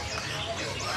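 Small finches, including strawberry finches and zebra finches, chirp and twitter in stock cages at an exotic bird shop, a brief dense chatter with a faint voice underneath.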